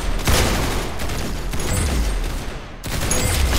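Heavy, continuous gunfire in a first-person video game shooter, loud, dense volleys rolling through most of the stretch with a brief dip near the end before the shooting resumes.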